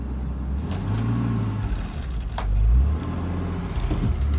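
A Nissan 300ZX Twin Turbo backs up slowly, its engine a close, low, steady rumble that swells briefly midway, with no talking over it.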